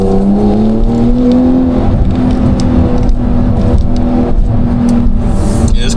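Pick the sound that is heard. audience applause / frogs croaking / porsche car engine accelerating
porsche car engine accelerating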